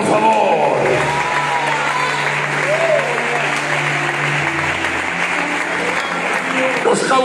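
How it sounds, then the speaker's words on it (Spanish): A church congregation in Logroño applauds during a sermon, broad clapping from the crowd continuing steadily with a voice faintly audible underneath. "Aplaude a Dios, por favor."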